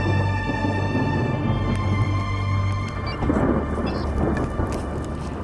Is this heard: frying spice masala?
no